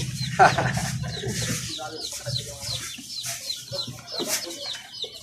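Newly hatched chicks peep in a busy, overlapping chorus, with occasional clucking from nearby fowl and faint voices in the background, the chirping continuing steadily throughout.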